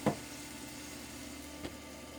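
Asparagus and other food sizzle steadily on a PowerXL smokeless indoor grill, a soft, even hiss broken by two brief taps near the start and middle, with no voices.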